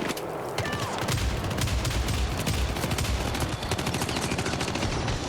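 Dense, continuous shotgun and automatic gunfire from the Syndicate video game, rapid overlapping blasts filling the whole stretch with steady loud intensity and no talk.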